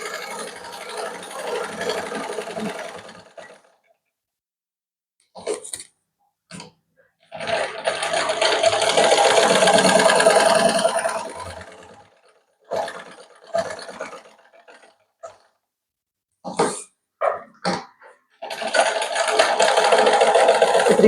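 A sewing machine stitching a blouse runs in three loud, close bursts of rapid whirring, separated by silences broken only by short clicks and handling knocks.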